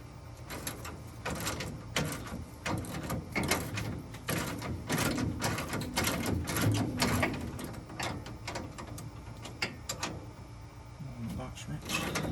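Box wrench tightening coarse-thread kit bolts during a Kawasaki Mule Pro FXT lift kit install, giving repeated close metallic clicks and ratcheting knocks over a steady background hum.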